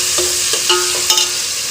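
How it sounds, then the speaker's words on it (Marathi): Tomatoes frying in a hot pan with ginger, garlic and onion, a loud, constant sizzle with a few short stirring scrapes, heard alone without talk. "अद्रक लसूण आणि कांदा छान परतून झालेला आहे, त्यानंतर मी यामध्ये घालणार आहे टोमॅटो"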